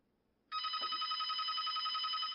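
An electronic telephone bell rings in one continuous trilling burst, loud and close, starting abruptly after a moment of near silence and lasting about two seconds.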